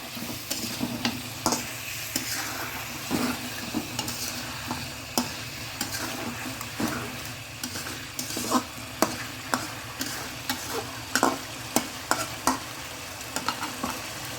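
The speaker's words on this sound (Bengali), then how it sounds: "ঢাকনা তুলে একটু নেড়ে দেবো" Fish head and green banana curry stirred in a pan, a low sizzle under repeated rhythmic scrapes and taps of the spoon, close and steady, no talk.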